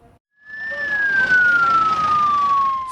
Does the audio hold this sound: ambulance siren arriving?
yes